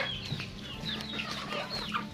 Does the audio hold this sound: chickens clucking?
yes